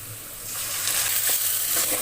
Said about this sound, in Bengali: এখন এই বাটা মশলাটা আমি দিয়ে ভালো করে কষিয়ে নিব